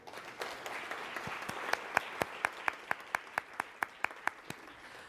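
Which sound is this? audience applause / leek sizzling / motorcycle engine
audience applause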